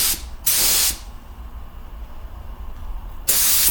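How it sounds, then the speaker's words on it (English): Aerosol spray paint hisses in bursts while coating motorcycle parts jet black outdoors on a cool day, two loud close sprays separated by a quieter pause, then a third burst begins. "I'm taking a chance just by spraying these parts jet black when it's only 60 degrees out"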